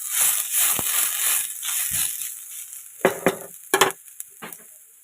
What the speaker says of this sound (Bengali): সামান্য একটুখানি ভাজা ভাজা করে নিলাম আর কি